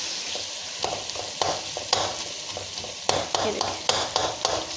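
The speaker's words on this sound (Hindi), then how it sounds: "अब इस स्टेज पे हम इसको अच्छे से जो है भूनेंगे।" Okra and tomato frying in a pan for bhindi masala, a constant close sizzle broken by rhythmic spatula scrapes and taps about twice a second, with a brief spoken remark over it.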